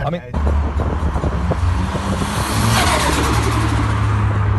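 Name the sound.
Ford Sierra Cosworth engine chatter spooling up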